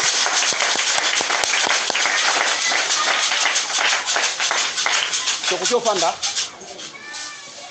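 A church congregation bursts into dense, sustained applause and clapping, loud and enveloping, with voices rising near the end before it fades out.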